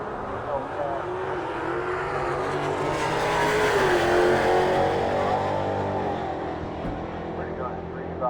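A Dodge Hellcat drag car roars down the strip during eliminations at a Mopar nationals event, its engine swelling loud then fading into the distance while an announcer talks over it.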